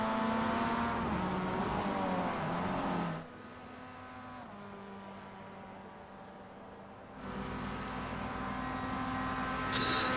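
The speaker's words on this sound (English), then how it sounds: "Hearing a car on the pit lane" A simulated race car engine in an iRacing endurance race at Laguna Seca drones steadily with harmonic whine, drops to a lower idle-like hum for a few seconds in the pit lane, then returns louder.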